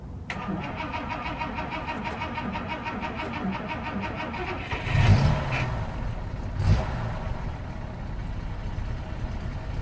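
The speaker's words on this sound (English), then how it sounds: "It is a carbureted engine, as you might expect." A 1952 Mercedes-Benz 300 Cabriolet D "Adenauer" with a carbureted engine cranks and fires up close by, then settles into a rough, steady idle with a couple of throttle blips.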